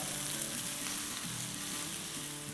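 Onions frying gently in a pan for chicken keema do pyaaza, a steady close sizzle and crackle with faint stirring, running continuously without any voices.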